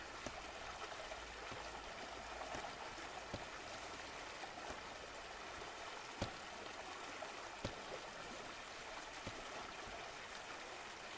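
Water from a stream in a video game runs steadily from start to finish as a soft, hissing trickle, with a few faint clicks and taps above it and no voices.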